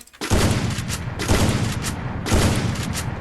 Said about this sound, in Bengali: নর্মাল নর্মাল ফায়ার দিচ্ছি আমার প্যানেল কিন্তু অ্যাক্টিভ আছে